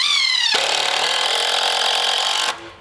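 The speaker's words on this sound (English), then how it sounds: "I have to trim the edge of this roofing" A power tool trims the edge of a metal roofing sheet for an Alaska cabin, a loud, close, steady high-pitched cutting whine lasting about two seconds after a spin-up, then stopping abruptly.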